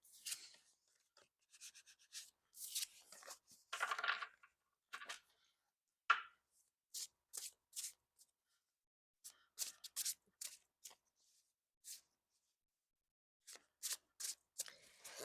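A tarot card deck is shuffled close up in short, crisp bursts of riffling and rubbing, separated by brief silences, quiet and intimate, with no talking.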